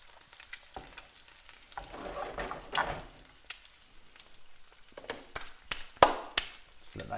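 Chili peppers, eggs and Italian sausage fry together in a pan, a low continuous sizzle punctuated by repeated scraping and tapping of a spatula, with louder bursts near the end and no speech.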